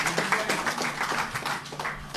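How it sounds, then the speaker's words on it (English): Brief applause from an audience at a political party manifesto launch, a fairly close, steady patter of many hands clapping. "can you please give them a round of applause?"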